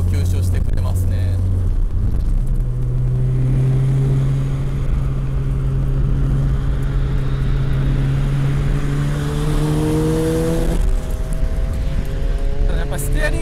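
Mazda RX-7 SA22C fitted with a swapped 13B rotary engine driving on a public road, a loud continuous drone from inside the car with engine tone rising in pitch, under steady cabin noise and someone talking throughout.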